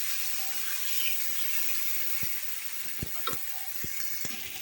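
Potatoes frying in a pan with onion, ginger-garlic paste and tomatoes give a loud, continuous hissing sizzle. A few sharp spoon clicks against the pan land near the end.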